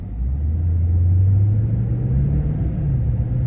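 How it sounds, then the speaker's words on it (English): A 2021 Toyota Tundra pulls away from a stop with tow haul mode off, its engine a steady, close low rumble that climbs gently in pitch as the truck accelerates, with no talk over it. "So let's take off, see how long it holds the gear."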